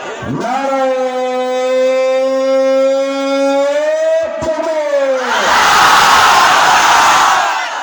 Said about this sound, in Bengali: সিঙ্গেল ভাইরা আমার সঙ্গে তাকবীর দাও।